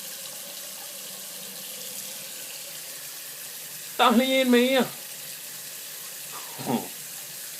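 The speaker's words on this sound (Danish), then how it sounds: "Og lige en vandhane." Water runs from a newly fitted tap on an extended T-piece in a plumbing setup, a steady low hiss throughout, briefly interrupted by a short spoken remark and a second faint voice.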